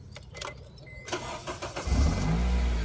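A Honda Civic FN2 Type-R engine cranks and fires up, then settles into a steady low idle rumble, loud and close with no talk.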